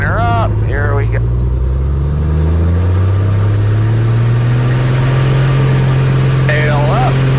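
Pitts S2B aerobatic biplane engine on its takeoff roll down runway 4, a loud, steady drone that climbs slowly in pitch, with a voice talking over it.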